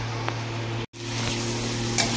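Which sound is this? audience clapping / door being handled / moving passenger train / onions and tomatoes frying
onions and tomatoes frying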